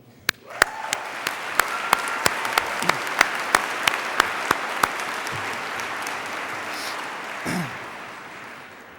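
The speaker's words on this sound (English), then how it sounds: "let us all exult in a celebratory moment and applaud ourselves for the contributions we have made to this" A large crowd applauds at a 2004 high school graduation ceremony in Winchester, a sustained wash of clapping with a few loud, distinct nearby claps on top, fading after several seconds.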